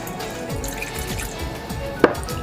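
Half a cup of water poured into a bowl of potato starch and teriyaki sauce to make a sauce for chicken and broccoli, a soft steady trickle with a single drip near the end.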